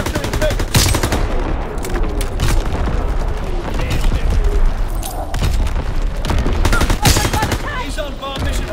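Heavy, continuous gunfire and booming artillery from a battery in the WWII shooter Call of Duty WWII, with sharp bursts and loud blasts stacked densely over a constant battle roar, and voices shouting underneath.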